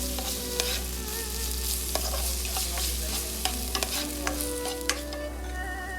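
Chopped green and red capsicum sautéing in a pan, a steady sizzle with occasional soft clinks of a spoon stirring, no voices.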